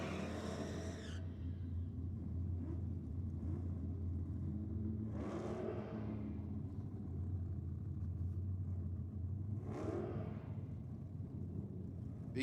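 A pair of Holden drag racing cars, one with a big block Chev engine, rumble at Sydney Dragway, their idling drone steady and distant, broken by a few sharp rising revs.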